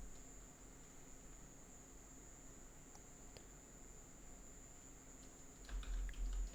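A computer keyboard gives faint, sparse keystroke clicks over a steady background hum, with a short quick cluster of taps at the very end.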